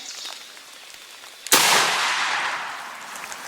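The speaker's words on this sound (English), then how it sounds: "Can you shoot the front one first?" A single sharp shotgun blast at wild turkey gobblers on a foggy spring mountain hunt, loud and close, breaking a quiet outdoor hush and trailing off in a long rolling echo.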